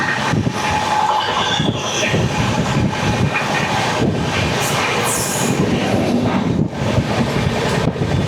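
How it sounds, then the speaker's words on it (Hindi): A passenger train running alongside as the Rajendra Nagar–New Delhi Amrit Bharat Express overtakes, a loud continuous rumble with rhythmic wheel clatter and rushing air, a voice speaking briefly over it. "ओवरटेक कर रहे हैं राजेंद्र नगर न्यू दिल्ली अमृत भारत एक्सप्रेस"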